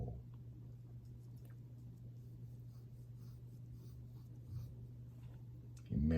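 Pencil scratching on paper while sketching a head, a steady soft scraping that runs throughout under a low hum, with a louder brush or knock at the very end.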